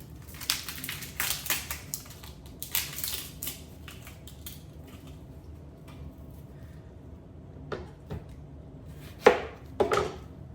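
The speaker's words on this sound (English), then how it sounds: "I'm slicing another half of a red onion very thinly" A knife slices half a red onion very thinly on a cutting board, producing a quick run of crisp, close chops, then a quieter stretch and a few louder cuts near the end.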